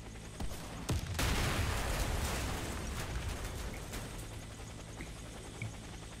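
Sustained burst of rapid gunfire aimed at a vehicle in the shooter game Warface, starting with a few sharp shots and then a dense, loud volley lasting several seconds, with scattered single reports trailing off.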